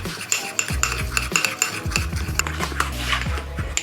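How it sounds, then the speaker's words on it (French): A fork stirs chocolate cake batter in a bowl, scraping and clinking in quick repeated strokes against the sides, close and fairly loud with no talking. "à l'aide de ma fourchette, je vais pouvoir mélanger"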